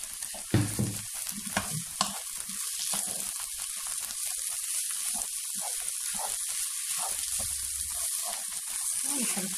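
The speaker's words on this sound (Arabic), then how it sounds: "أنا ملي كنقلي الخضرة راني زدتها شوية ديال الزيت" Vegetables and fried minced-meat kofta sizzle in oil in a pan, a steady close crackling fry with stirring scrapes near the start, without talk.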